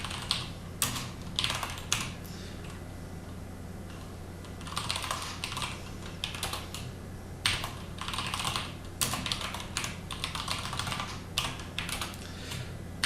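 C++ code being typed on a computer keyboard, close clicking keystrokes in uneven bursts with short pauses between runs, alone with no talk.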